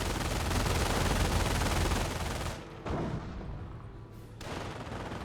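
Pak 38 anti-tank gun firing in Company of Heroes amid a dense, loud barrage of battle gunfire, which cuts off sharply partway through, returns briefly and fades into quieter ambience.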